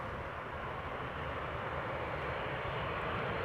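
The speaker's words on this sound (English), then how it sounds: "the GE90s are the kings of noise when they pass by" Arriving airliner with GE90 jet engines passing close at Amsterdam Schiphol, a steady broad roar with a fairly even level for several seconds and no voices.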